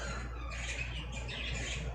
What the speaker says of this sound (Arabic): صوت العصافير ازعاج